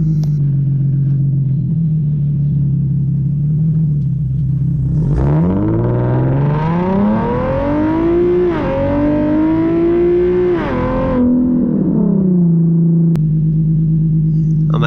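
A car engine fitted with new exhaust test pipes idles with a deep rumble, then revs hard through several rising and falling pulls before dropping back to a loud steady idle, all close up with no talk.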